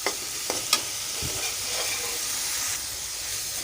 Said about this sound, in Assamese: এইখিনি আৰু এতিয়া ভাজিম কম জুইত ভাজি থাকিম এতিয়া আমি।